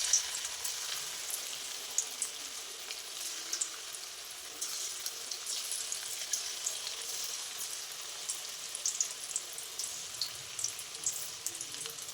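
Chicken pieces for chili chicken fry in oil with a soft, even sizzle and faint crackle that holds steady throughout, with no one talking.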